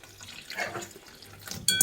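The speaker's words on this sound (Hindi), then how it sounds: "और इसमें डालूँगी मैं ये पानी" Water is poured into two spoons of cornflour in a small bowl, a short splashing trickle that swells toward the end.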